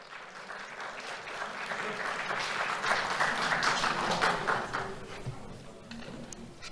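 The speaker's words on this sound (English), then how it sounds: "Let's have a round of applause for Luis." Applause from an audience at a Do The Right Thing awards ceremony honoring a student, steady moderate clapping that rises, holds for several seconds and tapers slightly, heard from a little distance in a large room.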